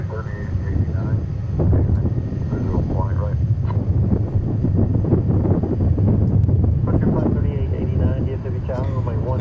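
Gulfstream G280 business jet at Dallas Fort Worth airport, a steady engine rumble with wind buffeting, under a person talking.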